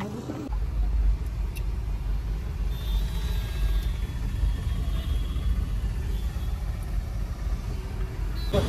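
Steady low road rumble inside a moving car in Pune, continuous and moderately loud throughout with no clear talk over it.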